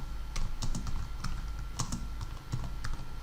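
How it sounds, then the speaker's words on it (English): Steady typing on a computer keyboard, with rapid clicky keystrokes in irregular bursts close to the mic over a low background hum. "So you can be able to type something like, for example, how to make money online."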